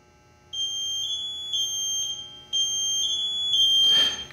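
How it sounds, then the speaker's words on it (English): A firefighter's SCBA PASS device emergency alarm sounds loudly and continuously, a shrill electronic tone pulsing in repeated stepped bursts, ending with a short rattle of handling. "Press the emergency button to manually activate the alarm."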